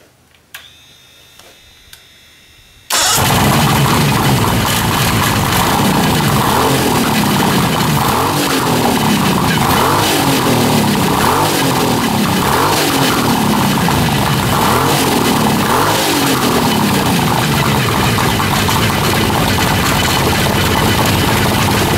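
A Mercury two-stroke V6 outboard motor, fitted to a motorbike, bursts into life after a few quiet seconds of faint clicks, then runs loud and close at a steady, slightly lumpy idle with rhythmic pulsing.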